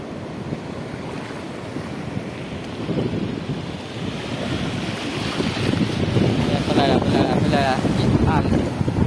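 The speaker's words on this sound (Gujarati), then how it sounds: "અહીંયા છે ને ભાઈ મોજો બહુ વધી ગયો ભાઈ ખાસ" Sea waves surge in a steady, dense roar with heavy wind buffeting the microphone, the wash growing louder toward the end as successive waves roll in one after another.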